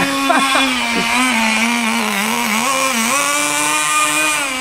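A 1/10 scale Bycmo nitro RC car engine runs steadily and close, a high-revving buzzing whine with a few quick throttle blips at the start.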